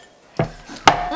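Potatoes and then carrots dropped into a cooking pot, two distinct thuds about half a second apart, close and fairly loud against a quiet kitchen background.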